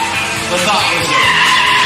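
Oldsmobile muscle car launching hard from the drag strip gate, a loud continuous engine roar with screeching tire noise sustained throughout, close and steady, with voices faintly mixed in.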